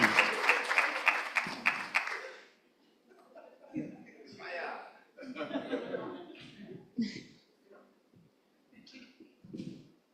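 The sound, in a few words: audience applause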